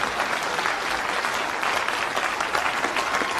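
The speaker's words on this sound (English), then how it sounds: "Please clap." Dense, steady clapping from an audience fills the whole stretch, loud and continuous without breaks or voices.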